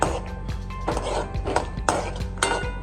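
Cashews drop into a pan of hot ghee while making rice flour ladoo, giving a run of close metallic clinks and taps against the pan over a steady background hiss.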